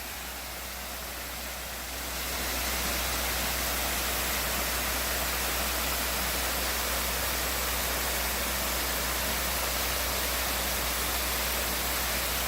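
Constant broadband rush of a waterfall in the Western North Carolina woods near Hot Springs, heard up close, loud and unbroken, swelling slightly after the first two seconds and then holding steady.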